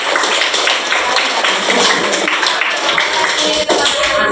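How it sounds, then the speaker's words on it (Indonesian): A group of students applauds at the end of a movement exercise in a classroom teaching session: dense, fairly loud clapping that carries on for several seconds, with faint voices underneath. "Tepuk tangan untuk semuanya tadi"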